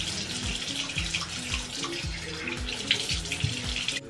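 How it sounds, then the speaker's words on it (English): Tap water runs steadily into a sink while someone rinses their face, with uneven splashes over the flow, close and moderately loud. "Now I'm just gonna rinse my face with water."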